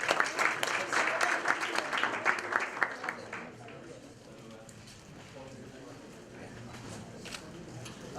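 Audience applause at a master class, a brisk crowd of clapping hands for the two-day session's instructor Gary Kistern, dense at first then thinning and fading into scattered claps, heard at moderate distance.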